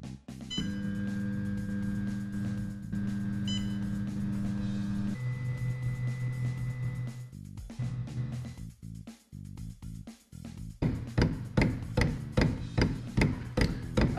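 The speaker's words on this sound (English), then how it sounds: "that sound you can hear is the stepper motor's clicking as it tries to unscrew itself and disassemble" A jammed 3D printer gantry gives off a sustained mechanical whine, and the stepper motor then breaks into rapid, loud, repeated clicking and knocking toward the end. The noise is close and there is no speech.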